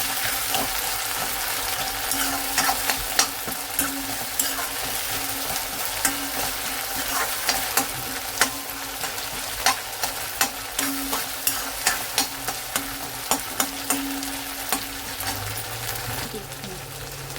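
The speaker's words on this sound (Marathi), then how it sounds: "टोमॅटो थोडा लालसर होईपर्यंत, थोडासा बारीक होईपर्यंत असं परतून घ्यायचं" Chopped tomatoes sautéing in a pan for Konkani egg curry, a close, continuous sizzle broken by repeated spoon scrapes and taps against the pan, with a low hum underneath and no speech.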